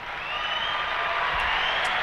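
A steady wash of applause from an audience at a live show, dense and even throughout, with no clear individual claps standing out and no speech over it.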